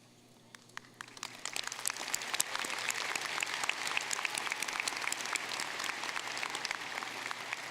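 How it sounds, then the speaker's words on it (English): Sustained applause from a commencement audience for the College of Engineering graduates, starting sparse and swelling into steady, dense clapping from a large crowd that continues throughout, with no talking over it. "please stand and receive our applause"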